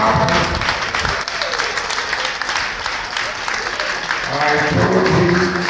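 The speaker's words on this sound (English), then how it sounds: "A round of applause," Audience applause at a marriage seminar, a loud, continuous crowd clapping that runs throughout, with voices mixed in underneath.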